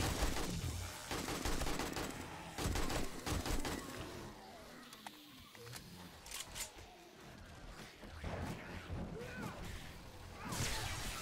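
Gunfire during a zombie horde night in the video game 7 Days to Die, dense rattling bursts and scattered shots with whooshes and crashes, steady and fairly loud throughout, no talking.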